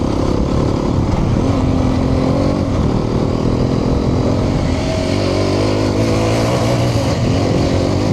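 A Hero Xpulse 210 motorcycle is ridden, its engine running steadily and loud throughout with shifting pitch as the throttle varies, no talk over it.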